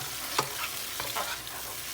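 A pan of tomatoes and chili pepper sizzles steadily for Creole chicken spaghetti, with a couple of soft stirring scrapes and taps rising briefly above the quiet hiss.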